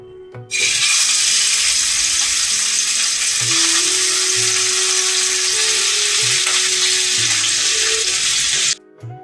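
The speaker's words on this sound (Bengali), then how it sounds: "এবার এই চিংড়ি মাছগুলো ভেজে নেব।" Shrimp, washed and rubbed with salt and turmeric, frying in mustard oil: a loud, steady broadband sizzle running close and unbroken for about eight seconds, with no talking.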